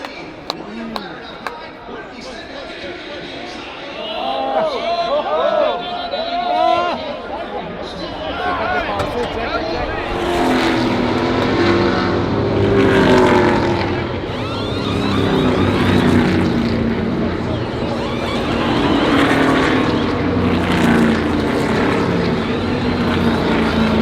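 Stock cars at the Daytona 500 roar past in a sustained, loud engine drone that builds after the first few seconds, with a crowd's voices mixed underneath.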